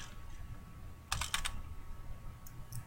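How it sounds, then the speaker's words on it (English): Keystrokes on a computer keyboard during office software work, a short quick burst of several close clicks in the middle followed by a couple of faint isolated taps against a quiet room hum. "I can start typing and it'll erase it and start showing the text that I type."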